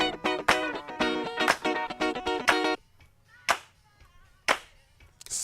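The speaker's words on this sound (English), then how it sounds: "Listen to those claps." Crisp handclaps from a recording crack in a steady rhythm over the full band mix, then ring out as a few isolated sharp claps with near silence between them.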